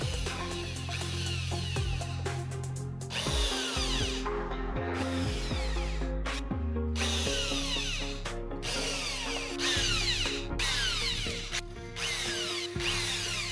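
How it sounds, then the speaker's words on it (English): A power drill bores lace holes through a shoe in repeated bursts, its motor whining up and down with short pauses between holes; close and loud, with no talking. "So I am going to drill the lace holes"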